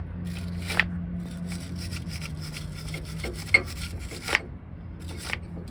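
A worn brush scrubs brake parts clean on a wheel hub being repaired, a steady rasping rub with a few sharper scratches, close and moderately loud, with no talking.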